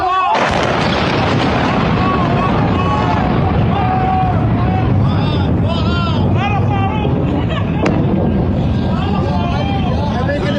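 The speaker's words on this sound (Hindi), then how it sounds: "ईरान की मिसाइल ने एयर डिफेंस सिस्टम को चकमा देकर इस बेस पर हमला किया" Missile strike on a US naval base, a dense continuous roar of blasts and rumbling with a sharp crack near the end, loud and chaotic with crowd noise and voices throughout.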